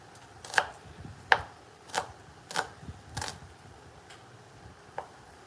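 Onions being chopped with a knife on a board, about six distinct, fairly quiet chops at an unhurried, slightly uneven rhythm, close and with no talking.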